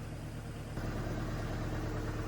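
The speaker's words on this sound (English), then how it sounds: "Just as the tractor's been warming up" Tractor engine idling as it warms up on a snowy day, a faint, steady low rumble that grows slightly louder partway through.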